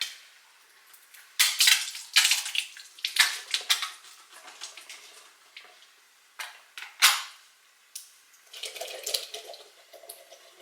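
Canned beans, no-salt-added, rinsed under running water in a home kitchen for crockpot chili, with intermittent splashing bursts and clattering between quieter gaps, alone without talk.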